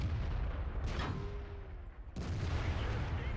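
A tank cannon fires in World of Tanks, giving two heavy booms with a rumbling low tail between them. The shots are mid-distance and loud, and the battle noise behind them never stops.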